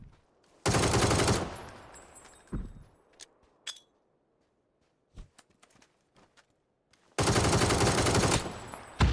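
A sniper shot in PUBG fired from far across the map, arriving as loud sustained bursts of gunfire at the start and again near the end, with sparse small clicks and thuds in the quiet stretch between.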